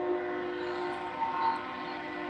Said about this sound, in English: You got trains coming by.